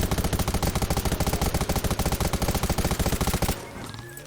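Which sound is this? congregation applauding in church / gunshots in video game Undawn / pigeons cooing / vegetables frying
gunshots in video game Undawn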